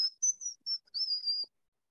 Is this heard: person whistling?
yes